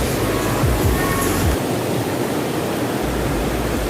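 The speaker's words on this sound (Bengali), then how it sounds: "প্রচুর পানির ফ্লো, একদম স্বচ্ছ পানি, প্রচুর ফ্লো পানির।" Heavy water pours at Khoiyachora Waterfall after days of rain, a dense, unbroken roar that fills the whole clip loudly and evenly, with no voices.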